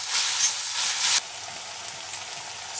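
Vegetables sizzle loudly in a hot pan as dark soy sauce is stirred in for thupka, a strong frying hiss that abruptly drops to a softer, steady crackle partway through.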